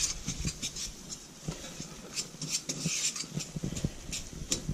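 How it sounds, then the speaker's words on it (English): A utensil stirs rainbow macaroni and cheese in a pan, scraping along the sides with soft repeated clinks and scrapes at close range, with no talk. "Got it nice and mixed up there. Make sure we get our sides of our pan here."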